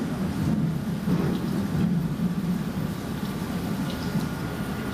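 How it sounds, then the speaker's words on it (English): Thunder rolls and rumbles low beneath a steady wash of rain in a sound art piece, the storm swelling in a couple of heavy surges before easing into continued rainfall. "it's thunder and lightning."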